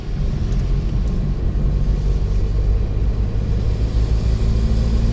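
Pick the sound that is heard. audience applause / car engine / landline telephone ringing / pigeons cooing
car engine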